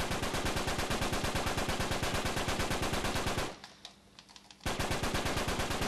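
Rapid M9 pistol gunfire in Uncharted 3 while bunny hopping: a dense, loud stream of evenly spaced shots breaks off for about a second, then resumes at the same fast rhythm.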